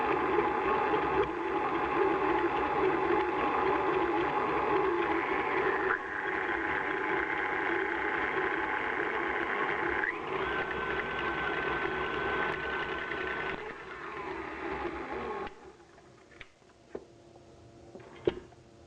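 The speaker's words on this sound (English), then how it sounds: "Whisk these together until the icing is creamy and smooth." Whisking icing sugar, soft cheese and vanilla extract into cream cheese icing makes a steady, even whirring drone for about fifteen seconds. It then stops, leaving a few light clinks.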